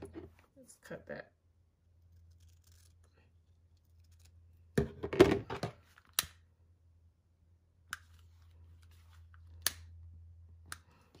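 Scissors snipping satin ribbon after the ends are burned, a few short, sharp clicks and one louder cut in a quiet room, with a low hum and brief speech between them.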